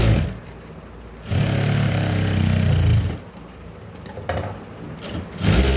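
A sewing machine runs a double line of stitching on a blouse, its motor whirring close by in a loud sustained burst, easing off, then starting up again briefly.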